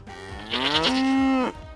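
A cow gives a single loud, close moo, rising and holding steady for about a second before dropping off, with faint background sound around it.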